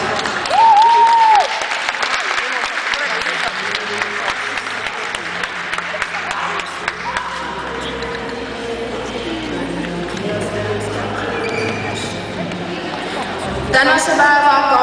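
Applause from a crowd at the Tallinn Winner 2014 dog show's Best in Show ring fills most of the stretch. A steady wash of clapping runs under an announcer's voice and background chatter, and it swells again near the end.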